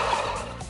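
Turkeys give a short, close burst of gobbling, a quick warbling call that lasts under a second.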